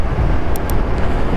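Moto Morini Seiemmezzo STR naked motorcycle on the road, heard as a steady loud roar of engine and wind rushing past, continuous and close without any voices.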